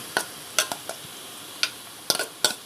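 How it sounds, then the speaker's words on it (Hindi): Garlic-ginger paste hitting browned onions in a pan while cooking mutton karela, with a low sizzle beneath sharp, irregular clicks and scrapes of a spoon stirring against the pan. "अब इसके अंदर मैं ये लहसुन अदरक का पेस्ट डाल दूँगी"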